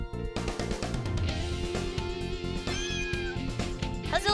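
A cat in an RPG Maker MV game meows several times when picked up and placed, the short meows riding over a busy, looping game music track.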